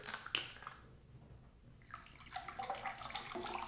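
Cold water pouring into a Russian combat ration drink packet over crystallized sugar-like granules, a close splashing, trickling run that starts softly and builds, with no talking.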